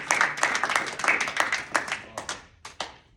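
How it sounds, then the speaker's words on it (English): A small group claps in a community meeting room, a few seconds of uneven, fairly close hand claps that thin out into scattered last claps. "All right, clap it up for me one more time,"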